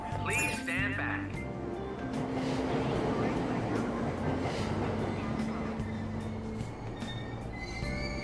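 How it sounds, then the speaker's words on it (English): A subway train in Persona 5 Royal pulls away from a station, its steady rolling rumble and clinks filling the scene, with a station announcement voice speaking over it throughout. "Train doors are now closing."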